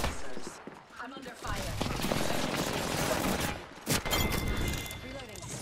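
Sustained automatic gunfire in a shooter video game, a dense rapid burst of shots lasting several seconds with a brief pause, while a player talks over it.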